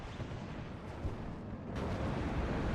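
Distant artillery and weapon fire in a WARNO real-time wargame multiplayer match, a steady rumbling barrage of muffled booms that grows slightly louder toward the end.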